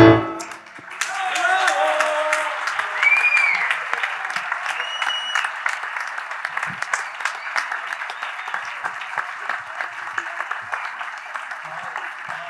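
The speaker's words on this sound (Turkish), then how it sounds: "Alkışlarınıza sağlık." Audience applause filling a hall after a song at a Turkish memorial concert evening, broad steady clapping that swells early and then holds at a sustained level, with a few scattered voices mixed in.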